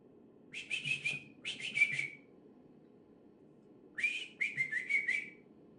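A person whistles in two bursts of short rising and falling notes, clear and close, with a pause between phrases and a faint low background hum.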